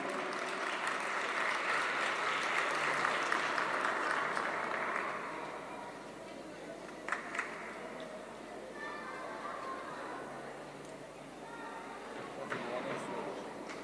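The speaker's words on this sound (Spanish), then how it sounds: "Fuerte, fuerte el aplauso" An audience at an aerial arts world championship final bursts into strong applause that fades after about five seconds, followed by quieter scattered claps and crowd noise while an announcer speaks.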